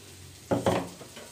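A utensil stirs chicken with pepper powder in a pan, making two quick clattering scrapes close by and then a couple of softer taps.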